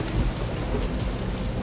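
Steady heavy rain pours with low rumbling thunder rolling underneath during a stormy scene in the video game The Path, loud and continuous with no gaps, no voices present.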